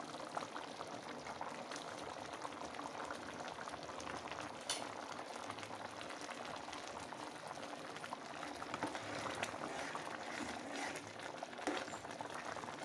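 Restaurant-style curry for chapati simmers in a pot with a steady, dense bubbling hiss. Small pops run through it, with faint occasional clinks underneath and no clear talk.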